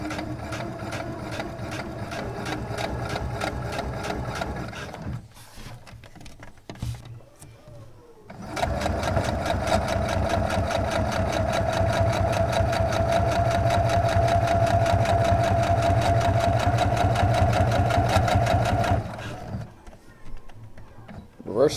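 Sewing machine stitching ripstop nylon for a DIY kit, a fast steady run of needle strokes in two bursts, with a pause between and a brief stop near the end while a voice talks over it.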